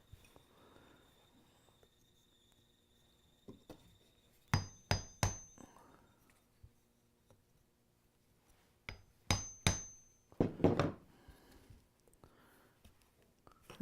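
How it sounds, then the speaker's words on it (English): A center punch struck with a hammer in a woodworking shop, sounding as two sharp bursts of three quick metallic taps each, followed by a louder clattering rattle, all near and distinct over a quiet background. "And center punch it."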